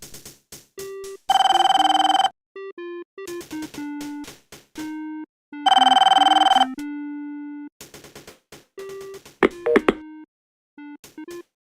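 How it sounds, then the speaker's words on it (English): Old-style telephone bell ringing in the police adventure game Police Quest IV, two long loud electronic ring bursts separated by a quiet gap, with short game music notes and blips between them. "Answer your damn phone, Junior."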